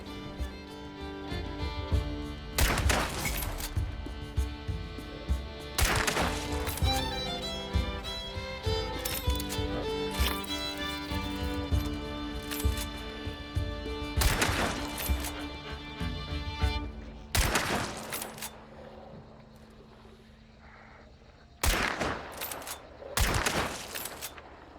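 Rapid volleys of video-game sniper gunfire, loud and close, with sharp repeated shots over a sustained musical and ambient game backdrop, pausing briefly before more bursts near the end.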